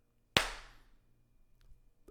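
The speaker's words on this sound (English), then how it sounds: "I'm going to clap and then come back." A single sharp hand clap rings out close and loud in a quiet room, its decay trailing off, with faint small noises afterward.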